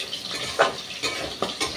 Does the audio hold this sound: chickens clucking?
no